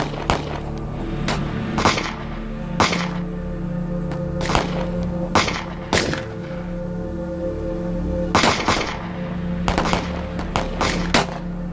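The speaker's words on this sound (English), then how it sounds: "We have more guns. Keep firing." Gunshots crack out in a western movie battle, sharp and irregular, a dozen or so reports spaced unevenly with some quick pairs, loud and close over a low rumbling background.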